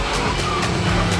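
A Mitsubishi Evo car drives past, a short, steady, fairly loud engine and road rumble with a constant low drone.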